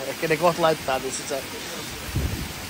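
Heavy tropical rain pours down at a Maldives resort, a steady wash of water noise with close voices talking over it at the start.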